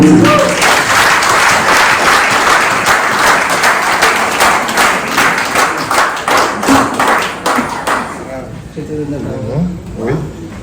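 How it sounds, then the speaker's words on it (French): Audience clapping to honour a person at a Trois-Rivières tribute ceremony: a loud, fairly rhythmic round of applause lasting about eight seconds before fading out, followed by nearby talk. "Vous pouvez l'applaudir."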